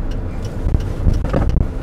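A manual-transmission car being driven in a driving lesson gives a steady, close engine rumble with some wind-like noise, rising and falling slightly as it accelerates.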